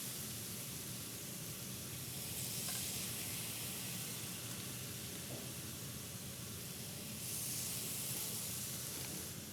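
Beef bulgogi searing in a hot pan, cooked in batches: a steady, close broadband sizzle and hiss that holds throughout, swelling slightly in places, with no talk.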